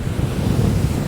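Rough sea surging against the shore at Upgang promenade near Sandsend, a short burst of broad, rumbling wash with wind buffeting the microphone, no voices.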